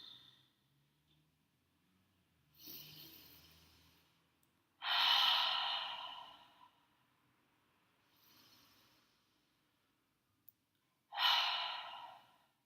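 Slow, deep breaths during yoga practice, with several long exhalations rising and fading at a calm, unhurried pace, close and soft, separated by quiet pauses with no talking.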